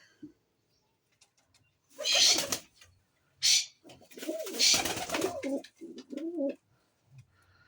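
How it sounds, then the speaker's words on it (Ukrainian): Pigeons coo in a farmyard during a Saturday morning in the village, several bursts of soft throaty calls at close range, with a few quiet pauses between. "Голубам ну, наляла, але щось не особливо поспішають"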